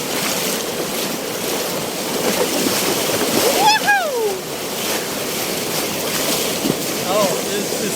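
Rushing water on river rapids while kayaking on the Nam Ha in the jungle of Laos, a broad steady wash with wind buffeting the microphone and a brief voice partway through.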